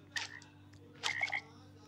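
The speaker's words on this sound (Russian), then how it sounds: "Звучит как лягушка." Two short croaks from a Minecraft frog in version 1.19, the second a slightly longer rattling call, quiet and close over a faint steady hum with no talk.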